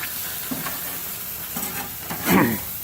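Meat sizzles on a grill over a wood fire in a steady, close crackling hiss, with a brief louder flare and a couple of handling noises near the end.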